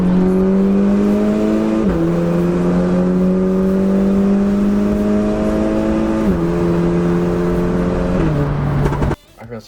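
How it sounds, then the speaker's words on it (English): Audi TTS with a four-cylinder engine pulling hard under acceleration, loud and close, its steady drone stepping down in pitch at each of several gear shifts before cutting off abruptly near the end. "I guess I'll get some driving clips just so you guys can see how the car like is performing"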